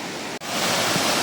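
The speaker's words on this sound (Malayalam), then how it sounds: "അങ്ങനെ മാമലക്കണ്ടം വെള്ളച്ചാട്ടത്തിലേക്ക് നമ്മളിങ്ങനെ വന്ന് വെള്ളച്ചാട്ടത്തിൻ്റെ സൈഡിൽ ഇങ്ങനെ നിൽക്കുകയാണ്." Mamalakandam waterfall rushes in a dense, steady roar of falling water heard up close. The noise continues without a break across the short moment, apart from one brief dip.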